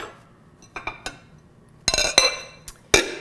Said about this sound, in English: Now I'll just cover that with a plate